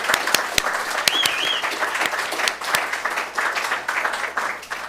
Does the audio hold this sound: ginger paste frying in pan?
no